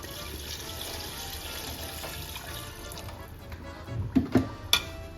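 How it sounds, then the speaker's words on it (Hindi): Water is poured from a glass into a pot of chicken nihari, a soft liquid splash and trickle that is faint at first and ends in a few louder splashes. "ये तकरीबन इसमें मैंने 1 गिलास पानी डाल दिया है।"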